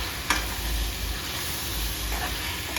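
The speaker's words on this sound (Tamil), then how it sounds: "கொஞ்சமாக நம்ம வீட்டில் அரைச்சி வச்சுருக்க மிளகாத்தூள் நல்லா ஃப்ரை பண்ணி விடுங்க" Home-ground chili powder fries in a pan for chicken biryani: a continuous close sizzle with a soft hiss, one sharp tap near the start and light stirring noises.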